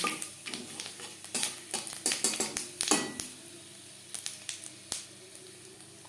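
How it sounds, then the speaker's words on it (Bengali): A bay leaf and five-spice seeds frying in oil left over from frying hilsa fish, heard as a soft steady sizzle broken by sharp clinks and scrapes of a utensil against the pan, close by, with no talking. "মাছ ভেজে নেওয়া তেলে ফোড়নে দিয়ে দেব একটা তেজপাতা"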